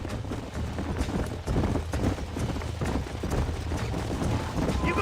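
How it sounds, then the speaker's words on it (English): Horses galloping in the Red Dead Redemption video game, a rapid, dense clip-clop of hooves pounding steadily throughout, loud and close. "There's the horses!"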